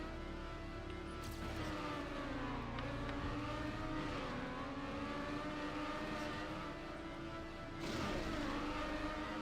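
A car drifting in a racing video game: a continuous whining engine tone that dips and climbs in pitch as it slides, loud and steady throughout, with no voices.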